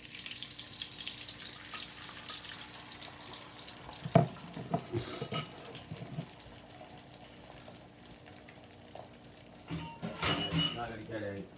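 Eggs frying in a pan on medium heat, a faint sizzle under a speaking voice, with a sharp clink near the middle and a burst of running, splashing water toward the end.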